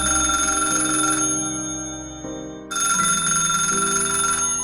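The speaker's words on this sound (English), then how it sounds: "Several months later, the phone started ringing at the Sudbrink house." An old-style telephone bell rings in two long trills with a short gap between, clear and close, as a sound effect in a spoken drama.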